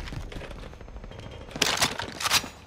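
Gunfire in Call of Duty: Modern Warfare on Rebirth Island, with two bursts of sharp cracking shots near the end over a busy game soundscape, moderately loud.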